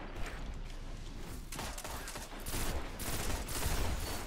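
Pulse rifle fire in the video game Destiny comes as dense, loud, continuous bursts of rapid shots that swell louder toward the end, with no voices.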